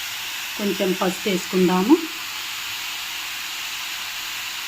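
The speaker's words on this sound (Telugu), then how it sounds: "క్యాబేజీ కొంచెం మెత్తబడేంత వరకు వేగనిద్దామండి" Cabbage frying in a pan gives a steady, soft sizzle throughout, and someone speaks briefly over it near the start.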